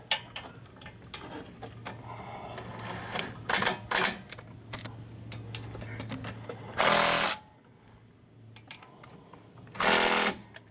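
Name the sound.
power impact wrench tightening bolts on a Hyundai Santa Fe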